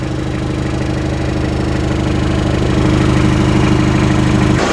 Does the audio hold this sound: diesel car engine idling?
yes